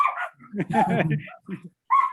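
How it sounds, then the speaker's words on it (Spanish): Dogs barking in short, close bursts with yips, alternating with people talking in Spanish. "No lo escuché porque con el ladrido de los perros."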